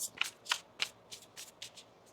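A deck of tarot cards is shuffled by hand, a series of crisp riffling and snapping bursts in an uneven rhythm, close and fairly quiet with no talking.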